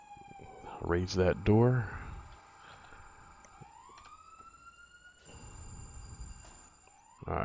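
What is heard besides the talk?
fire engine siren approaching in FDNY firefighting video game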